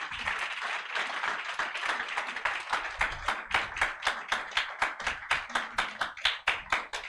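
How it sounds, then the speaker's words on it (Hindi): A church congregation at a Sunday service claps hands together in thanks, starting as a dense scattered applause and settling into loud, rhythmic unison claps that carry steadily throughout. "ताली बजाकर धन्यवाद करें।"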